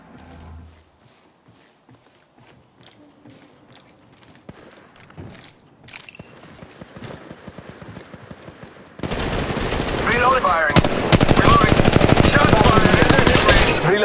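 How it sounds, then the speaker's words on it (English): Rapid automatic gunfire from Apex Legends Mobile starts after quieter movement sounds, then becomes loud, dense and continuous, with brief voice callouts in between. "Shots fired!"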